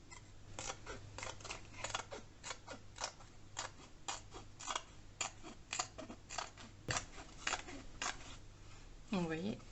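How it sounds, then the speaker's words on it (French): Scissors snipping away excess material on a spring shabby-style home decor craft, a quick close run of repeated sharp cuts at an uneven rhythm, with a faint hum beneath and a brief voice near the end. "Et je vais venir découper le surplus."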